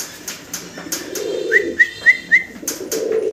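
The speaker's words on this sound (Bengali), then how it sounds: "দর্শক, ভিডিও স্ক্রিনে আপনারা চমৎকার একজোড়া লাহোরি কবুতর দেখতেছেন, ব্ল্যাক কালারের ভিতরে" A pair of large black Lahori pigeons at a pigeon farm coo nearby in low, throaty bursts, with a short run of brief, higher whistling chirps in between.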